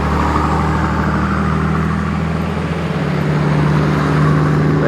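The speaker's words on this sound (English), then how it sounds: "You can hear cars zooming past where we are now" Steady roar of cars rushing past on a main highway about 100 metres from a wet forest track, a continuous, fairly loud wash of traffic noise with no talk over it.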